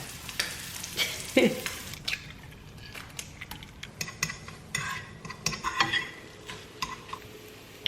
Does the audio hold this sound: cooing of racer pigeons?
no